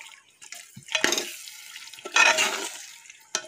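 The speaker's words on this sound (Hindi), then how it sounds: "इसमें डाल के हम इसे चलाएंगे। चला रहे अच्छी तरह इसे हमें चलाना है।" Mixed vegetables stirred in a pot for veg tahari, giving two or three separate scraping, sizzling stirs with short quiet gaps between them, close by, no speech.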